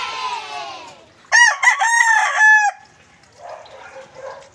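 An SBR line gamefowl rooster in a backyard crows once, loud and close, a full cock-a-doodle-doo with clear harmonics, framed by softer clucking and background noise before and after.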